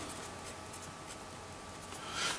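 A Franklin-Christoph Model 66 fountain pen with a medium steel nib scratches softly across paper, a faint, close, continuous writing sound that swells briefly near the end.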